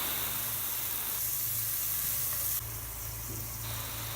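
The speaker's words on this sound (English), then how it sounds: "Saute for about 5 minutes." Salt and chili flakes sautéing in a pan for creamy mac and cheese, giving a steady, close sizzle and hiss that runs unbroken with a low hum underneath.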